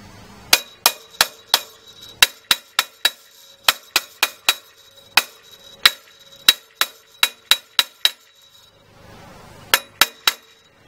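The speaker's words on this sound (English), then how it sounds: "We're going to hit it with a hammer a little bit more." Sharp metallic hammer strikes ring out one after another in quick bursts as a bearing plug is driven into a motorized bicycle's crank, with a short pause before a final few blows.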